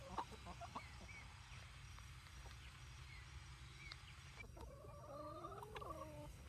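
Backyard chickens cluck softly and steadily at a quiet distance, with a clearer run of clucks toward the end.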